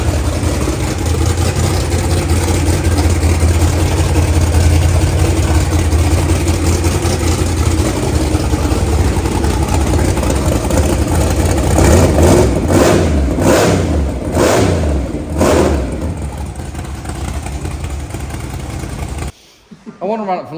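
A supercharged 540 engine fires up for its first start, running loud and rough with steady idle and blips of revving that rise and fall near the end, as voices speak over it.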